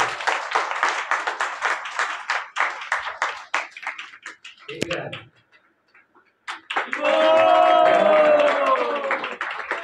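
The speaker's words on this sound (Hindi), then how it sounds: "श्री हमारे श्री जनार्दन प्रभु के ताली हो जोर से" An audience at a Sri Caitanya Bhagwat gathering at a Pure Bhakti Centre in Jaipur claps for Sri Janardan Prabhu in two bursts of crowd applause, split by a short lull. A voice and tonal sounds rise with the second round.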